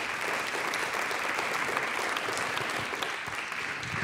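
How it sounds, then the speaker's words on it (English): An audience at a congress panel claps in sustained, dense applause, loud and even throughout with no voices over it. "Have a round of applause for Angelia, please."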